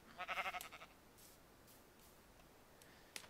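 A Minecraft sheep gives a brief nasal bleat as it dies in the video game, a quick wavering burst followed by faint clicks and near silence.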